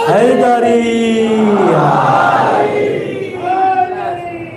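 A crowd at a Shia majlis gathering in Palitana shouts a religious slogan in unison, loud and close, with sustained massed voices that dip briefly before a second swell of chanting.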